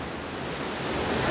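Water rushing down from above at the Mola Hatachi picnic spot in Khuzdar, a steady, loud broadband roar with no voices.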